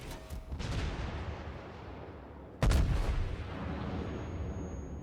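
Heavy battleship guns boom in the naval combat game World of Warships, aboard a Tier 9 Iowa; one sharp, loud salvo breaks out midway over a constant roar of rumbling battle noise.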